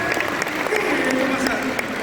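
Audience applause at a national youth conference, a steady wash of clapping from a large crowd that holds at an even level for about two seconds, with some voices mixed into it.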